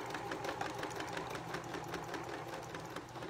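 A sewing machine runs steadily, stitching around the side and neck of a primitive cloth doll body in a fast, even, continuous whir without pause.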